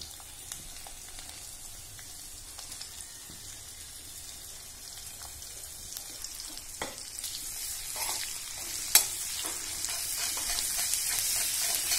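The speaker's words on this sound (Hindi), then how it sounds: "लहसुन को थोड़ा सा हम थोड़ा सा हल्का सा ब्राउन करेंगे, बहुत ज्यादा नहीं।" Garlic, ginger and chili frying in a pan for baingan bharta, a steady soft sizzle with crackling that grows slightly louder toward the end, a sharp clink near the close, no talking.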